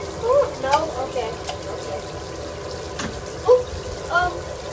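Tap water runs steadily during a pet bird's shower, a constant splashing hiss with small chirps and squeaks from the bird, while a person talks softly nearby.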